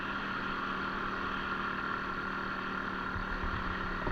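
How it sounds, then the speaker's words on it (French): Dirt bike engine running steadily during break-in after a piston, cylinder, rings and gaskets rebuild, a continuous droning hum at an even pitch with no breaks. "je préfère refaire un rodage pour que le moteur soit bon"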